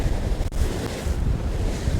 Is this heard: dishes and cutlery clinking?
no